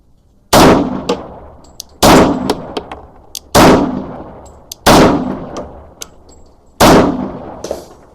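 Five sharp, loud pistol shots from a 40 Smith & Wesson handgun with a drop-in barrel ring out at an outdoor range, spaced about one to one and a half seconds apart, each followed by a decaying echo.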